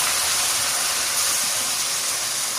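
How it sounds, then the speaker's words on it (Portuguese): Chicken pieces fry in melted margarine in a pan over medium heat, giving a steady, close sizzling hiss with no voices. "A margarina já derreteu, agora a gente vai colocar o frango."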